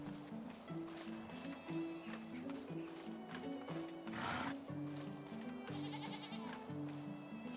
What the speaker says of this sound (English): I heard that and I thought, wait a minute, I don't have no goats. I forgot that I got sheep.